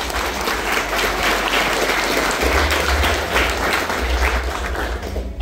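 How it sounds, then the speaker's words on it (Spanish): Loud, sustained applause from an audience at a tournament in Oaxaca, steady dense clapping with a low rumble beneath, filling the whole stretch without a break. "Un aplauso para todas y para todos ustedes."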